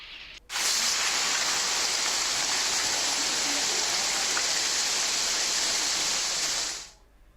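Steady rain falls in Joshimath town in Uttarakhand amid a winter storm of rain and snowfall, a dense even hiss that starts abruptly, holds unchanged for several seconds, then fades out.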